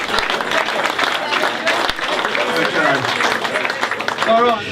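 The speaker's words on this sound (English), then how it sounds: "So a big round of applause to Hillsey for organising that." Sustained round of applause from the audience at a Wealdstone FC football club awards evening, dense steady clapping filling the room with some voices and brief cheers mixed in.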